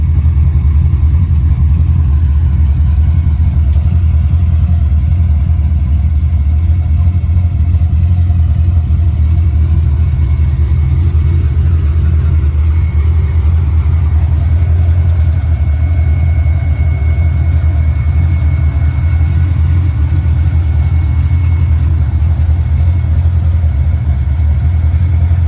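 Supercharged LSA V8 car engine running steadily with a deep low rumble throughout, continuous and loud, with no talking.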